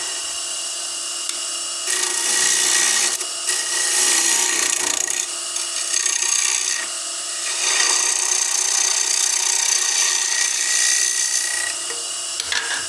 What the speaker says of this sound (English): I'm going to make a pretty shallow rebate on this.